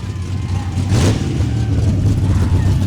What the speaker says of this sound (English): That's how you do a burnout at a dirt track.